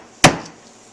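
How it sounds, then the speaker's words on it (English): A hammer strikes once, a single sharp metallic knock against a punch to drive a peened rivet out of a Yamaha YZ250F clutch basket, ringing briefly in a quiet workshop. "knock it out with a hammer"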